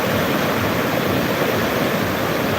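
Water rushing over a dam behind a house during flooding, a loud, constant roar of broadband noise, close and unbroken.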